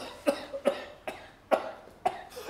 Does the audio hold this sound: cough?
yes